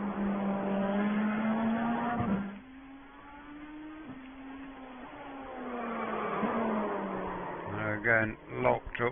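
An LMDh prototype race car in the iRacing video game roars along, its engine note sliding down under hard braking, then a brief warbling tyre lock-up squeal near the end, with a voice talking over it.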